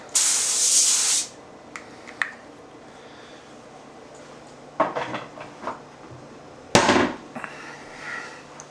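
A short burst of oil spray hisses loudly over a cake pan lined with aluminum foil, followed by quieter clinks and knocks of handling and laying out pieces of pork loin.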